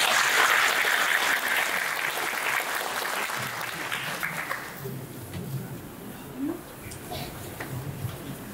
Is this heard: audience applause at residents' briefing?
yes